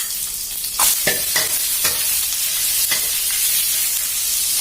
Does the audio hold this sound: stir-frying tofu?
yes